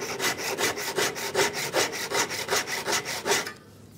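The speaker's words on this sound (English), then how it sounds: "Even with the mitre box, make sure, see I'm going deep on this side so that it's guiding my saw for" A hand saw cuts through wood held in a mitre box, making about a dozen rhythmic rasping strokes close up that stop abruptly near the end.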